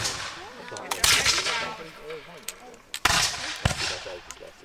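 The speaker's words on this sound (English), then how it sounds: "Hit fire and then have to reload." Reenactors at a Revolutionary War fort fire muskets outdoors, giving several sharp, loud reports spaced unevenly, with crowd chatter and voices around them.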